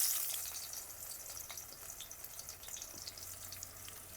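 Onions frying in hot oil in a wok, a steady broadband sizzle that stays close and fairly quiet throughout, with faint crackles and no talk over it.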